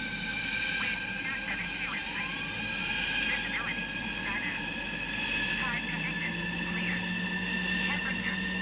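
A steady jet engine roar with a high whine fills the background, constant and loud, while a voice talks intermittently over it: an F-15's engine starting in Microsoft Flight Simulator.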